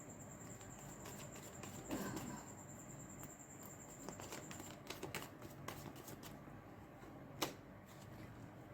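Tarot cards are shuffled close by in soft, fluttering riffles and light papery taps, quiet and uneven, with one sharper snap near the end and no talking.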